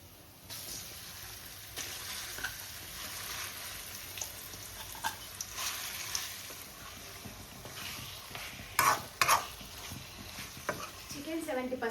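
Marinated chicken pieces added to browned onions in a pan for spinach chicken, frying with a steady low sizzle and occasional scraping stirs, a couple of sharper clatters near the end, no talking.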